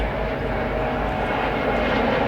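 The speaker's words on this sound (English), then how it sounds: "got a helicopter right above me for a second." A loud, steady rotor-and-engine roar of a low aircraft passing overhead, constant throughout with no voices.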